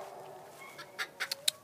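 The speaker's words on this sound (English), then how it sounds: "Everyone is hearing the chickens and is like, what's going on?" Farm chickens cluck in a few short, separate bursts, faint at first and then sharper near the end, set against quiet outdoor background noise.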